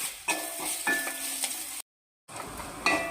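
A spoon stirs meat masala and salt through a mixture in a hot pan, giving scraping strokes over a low sizzle, with a short break of silence before the stirring picks up again.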